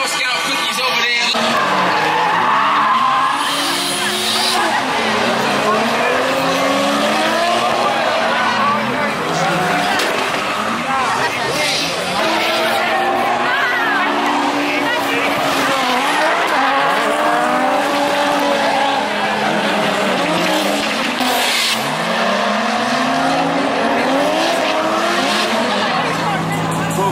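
Drift cars at a US Drift Circuit event squeal their tires and rev their engines in repeated sweeping slides, one of them a Drift M45. The sound is loud and continuous with constant crowd and background noise.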